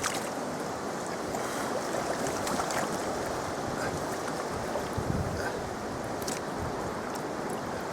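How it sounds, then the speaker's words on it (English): Strong southerly wind blowing down a lake at a carp fishing swim, a steady broadband rush with gusty microphone buffeting and water lapping, continuous and fairly loud throughout. "Lovely big southerly coming down the lake"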